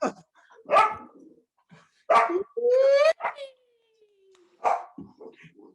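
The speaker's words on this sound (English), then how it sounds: "there's dogs barking" Several sharp dog barks ring out at irregular intervals, mixed with a drawn-out whine, close by and loud in an otherwise quiet space.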